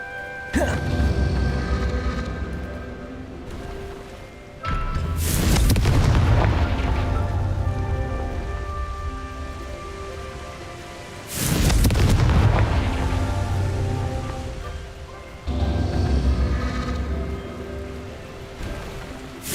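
A Confringo fire spell goes off three times in the Hogwarts Legacy video game, each cast a loud booming blast that rumbles and fades over several seconds. The explosions come at irregular intervals.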